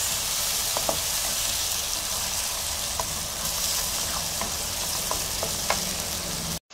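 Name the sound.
tomatoes sautéing with browned garlic in a pan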